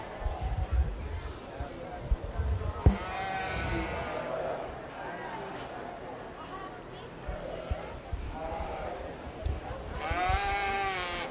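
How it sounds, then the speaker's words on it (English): Market Blackface lambs at a 4-H/FFA sheep show ring, several bleats rising and falling at moderate distance amid crowd murmur and thumping movement, with an announcer speaking over the scene. "Entering the ring now is our second class of Market Blackface"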